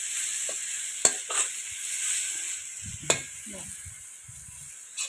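Ginger and garlic fry in an iron pan with a soft steady sizzle, broken by a couple of sharp spoon knocks and brief stirring scrapes, with quiet voices murmuring nearby.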